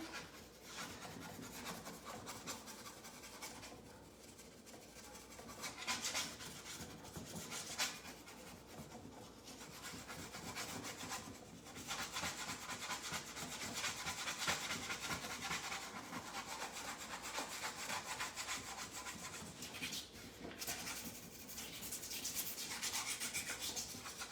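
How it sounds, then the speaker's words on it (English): A wooden jewelry box has its edges rubbed hard by hand to distress the finish, giving a steady, continuous rasping scrape that swells and eases in long strokes, close up with no talking. "I'm rubbing hard on the edges because I want it to distress it."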